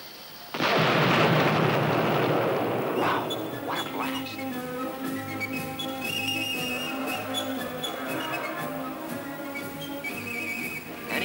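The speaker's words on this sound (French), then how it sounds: "Let's look at that blast again in slow motion" A sudden loud blast erupts and rumbles on, slowly fading into a long, roaring wash of noise with whistling tones.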